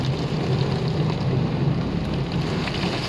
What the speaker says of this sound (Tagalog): Sobrang lakas na po talaga ng ulan.